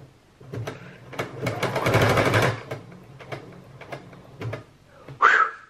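A sewing machine stitches down buttons in several short mechanical bursts with a steadier whirring run in the middle, ending on a brief high squeak.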